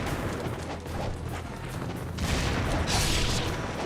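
Explosions in the video game Ninja Gaiden Sigma 2 Black: a dense stretch of blasts, with a louder burst of crackling booms building near the end. No talk is heard over them.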